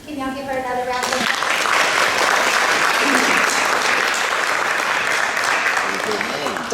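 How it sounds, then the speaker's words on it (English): An audience at a school board of education meeting bursts into loud, sustained applause for a student, a dense close wash of clapping held steady to the end, with a voice heard briefly at the start. "Can y'all give her another round of applause?"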